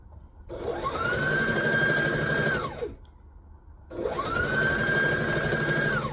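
An overlocker sewing machine runs in two long bursts, each spinning up to a steady high whine and winding down again, with a short quiet pause between the seams.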